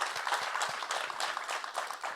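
Audience applause, a steady wash of many hands clapping at moderate volume, fairly close and continuous for a couple of seconds, with faint voices beneath.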